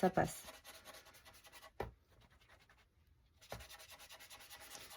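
Pencil drawing on paper, worked lightly over cheap coloured pencils before watercolour: soft scratchy strokes in short bursts with pauses between them, close and quiet.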